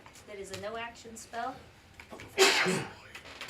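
One sharp, loud sneeze from a player at a tabletop role-playing game session, following a few seconds of speech.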